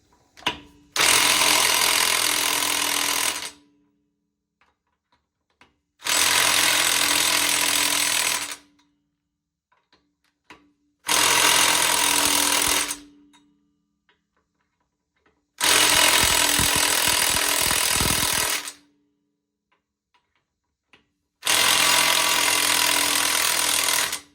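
An impact wrench hammers lug nuts onto wheel spacers in five loud, close bursts of about two to three seconds each, separated by silent pauses.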